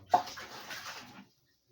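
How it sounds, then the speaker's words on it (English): Water poured into a cooking pot for preparing unripe plantain in a village kitchen: one short splashing pour of just over a second, close and fairly soft, ending abruptly in silence. "So we are going to be adding our water."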